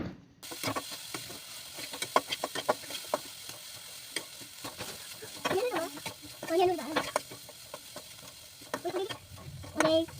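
Grated carrot stirred and fried in a pan over medium heat, with soft sizzling and a spoon scraping repeatedly against the pan while voices talk over it.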